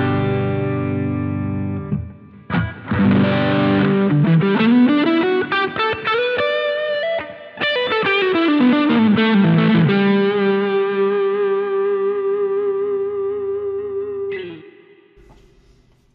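A Framus Diablo Pro electric guitar plays through distortion and chorus effects, with sliding bends rising and falling across two phrases, then a long sustained ringing chord fading out.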